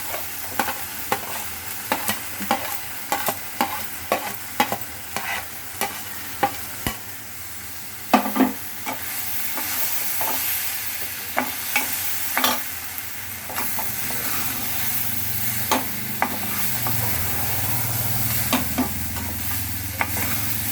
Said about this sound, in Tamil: இதையும் சேர்த்து ஒரு தடவை நம்ம ஏற்கனவே வதக்கி வச்சதையும் சேர்த்து ஒரு தடவை வதக்கிடலாம்